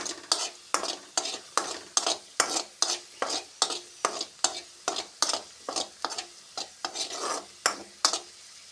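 Garlic fries in a pan until reddish, a soft sizzle under a fast, regular run of crisp spoon scrapes and clinks against the metal, close and clear with no voices.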